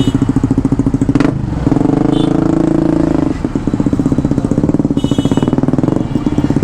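A Honda CBR Repsol motorcycle running without its exhaust, a loud, close, rapid chugging thump that rises in brief blips of revving and settles back to a rough idle, with a short voice heard in between.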